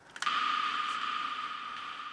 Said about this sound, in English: I threw on a delay at the end to kind of give that little echo